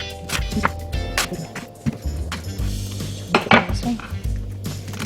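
A medium onion being cut with a knife for a grilled veggie salad, heard as close, uneven knocks and clatters of blade and board, with thumps and a couple of sharper clinks.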